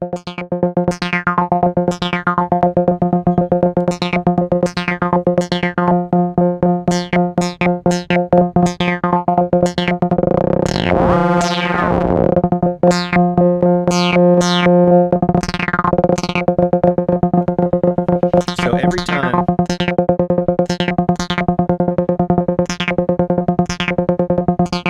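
MiniBrute 2 analog synth with a fast saw-wave LFO2 retriggering the AD envelope, giving a rapid stream of sharp plucked repeating notes over a sustained buzzy tone, with a filter sweep swelling in the middle.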